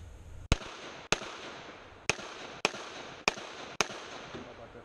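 Six sharp pistol shots fired during a competition shooting stage, spaced roughly half a second to a second apart, each loud crack followed by brief outdoor echo, with no talk.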